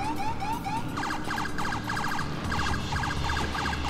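Wailing yelp siren of an NYPD 2014 Ford Utility highway patrol police car in the game LCPDFR, loud and continuous with rapid warbling pulses over steady engine and traffic noise.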